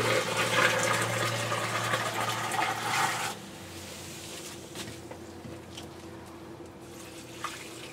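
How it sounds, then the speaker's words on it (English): Fresh-made salt water pouring into calcium reactor containers for an aquarium, a loud steady gushing rush that stops partway through, leaving a quieter background with a few small knocks. "might as well just fill these things up with water I've got out here"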